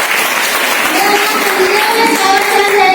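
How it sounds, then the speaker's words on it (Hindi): Women at a self-help group training program in a village setting give loud, continuous welcoming applause, a thick wash of clapping with voices mixed in beneath it. "जोरदार तालियों से स्वागत"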